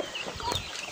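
Goliath chickens in an outdoor run, with soft, low clucking that sits amid a hissy, windy outdoor ambience during a rainy period.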